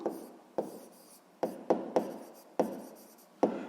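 A pen or pencil writing on paper during a math lesson, with about eight distinct scratchy strokes in an uneven rhythm, close and quiet, no talk.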